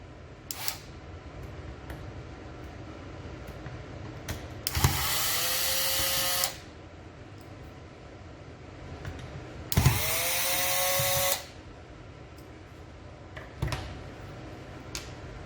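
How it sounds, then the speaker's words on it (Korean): Two screws being backed out of the rear of an HP/Samsung color copier drum unit with a power screwdriver, two whirring bursts of about two seconds each, separated by quiet handling clicks and taps, close and fairly loud. "이 두 개의 나사를 풀어줍니다."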